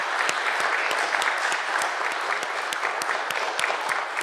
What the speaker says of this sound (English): I would like to invite you to share with me the applause